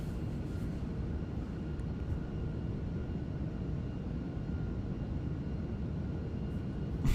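Steady, unbroken jet engine roar from an Airbus A340 in Microsoft Flight Simulator 2024, a dense constant drone with no voices.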